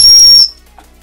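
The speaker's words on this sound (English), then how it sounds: "A little tiny whistle just blowing on the top of that thing." A tiny whistle built into a titanium tactical pen gives one short, very high-pitched, piercing blast lasting under half a second, loud and close, then cuts off to near silence.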